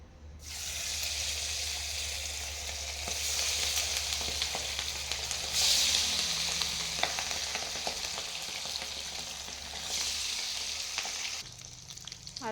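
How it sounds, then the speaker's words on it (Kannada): Liver kebab balls (liver gundukayi) dropped into hot oil sizzle and crackle loudly and steadily, with occasional stirring or scraping clinks and a brief burst of louder spitting midway, no voices. "ಎಣ್ಣೆ ಬಿಸಿಯಾದ ನಂತರ ಇದನ್ನು ಅಂದರೆ ಲಿವರ್ ಗುಂಡ್ಕಾಯಿನ ನೋಡಿ ಸ್ವಲ್ಪ ದೂರದಿಂದನೇ ಹಾಕ್ಕೊಬೇಕಾಗುತ್ತೆ ಆಯಿಲಲ್ಲಿ"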